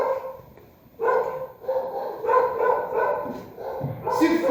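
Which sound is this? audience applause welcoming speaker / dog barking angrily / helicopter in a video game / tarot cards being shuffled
dog barking angrily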